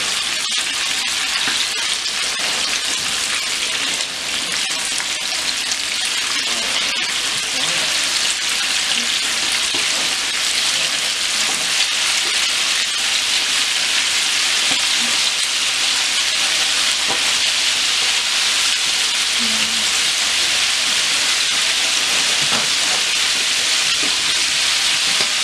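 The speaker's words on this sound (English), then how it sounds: "It's already frying up very good." Chicken fries in hot grease in a cast iron pan, producing a dense, steady crackling sizzle that continues evenly for the whole stretch, close and fairly loud with no talking.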